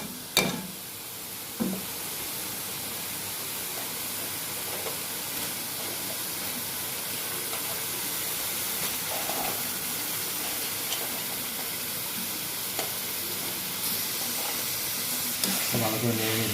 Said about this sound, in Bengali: মশলাটা ভালো করে কষানো হলো, যে তেল তেল ছেড়েছে, এবার আলু দিতে হবে।